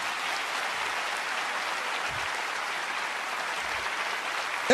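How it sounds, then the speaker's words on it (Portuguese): A church congregation applauds steadily, a dense wash of clapping from many hands filling the room at an even level throughout. "Pode aplaudir, pode aplaudir."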